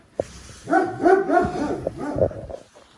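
A dog barks and yips several times in a short, excited run, fairly close, with whimpering tones between barks, on a Himalayan trekking trail in Nepal.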